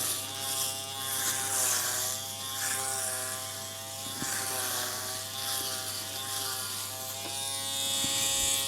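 An Aberlite Touch 2 rechargeable electric head shaver running over a scalp, a continuous close buzzing hum whose pitch wavers slightly as it moves, loud and steady without speech.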